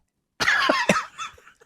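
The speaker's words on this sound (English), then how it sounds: "You can do the cough." A single rough, raspy cough bursts out close to the mic, trailing off into a throaty rattle, with silence before it.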